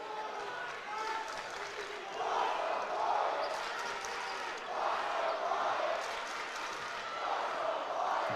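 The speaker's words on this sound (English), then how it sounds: "Bountiful student section trying to cheer on their D." A Bountiful student section cheers in a gym during an Alta vs Bountiful boys basketball game, a steady crowd roar that swells in waves, with voices blending into the noise.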